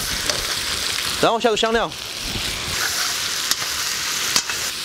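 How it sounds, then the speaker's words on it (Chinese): Doubanjiang, a mix of red-oil and aged broad bean paste, sizzles steadily in a wok with lamb, a bright constant frying hiss carrying through the clip while someone speaks briefly over it. "中间给它泡个洞洞啊，下豆瓣酱，要红油豆瓣和老豆瓣混合的啊，"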